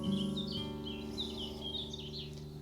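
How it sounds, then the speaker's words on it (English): Birds sing outdoors at the Roman ruins of Silchester, bright chirps and warbling phrases over a steady low engine-like hum, fairly close and continuous. "Just hearing those birds sing."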